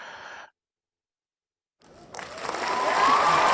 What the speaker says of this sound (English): You get the crowd's approval.